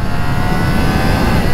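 A 2021 Triumph Trident 660 motorcycle engine accelerates hard in second gear near 7000 rpm, a loud, steady high-revving roar heard close and unbroken, with wind noise mixed in.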